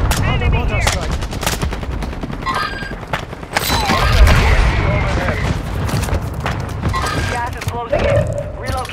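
Gunfire in a Call of Duty Warzone 2 match, dense bursts and distant automatic shots crackling through a busy mix of game sounds, with faint trailing booms, steady and fairly loud throughout.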